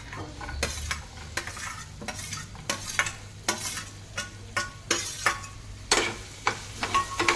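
Onion and green chili are stirred in a frying pan over a soft, steady sizzle, with a utensil scraping and clacking against the pan at close range in a fairly regular rhythm.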